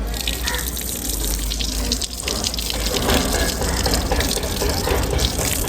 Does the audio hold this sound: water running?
yes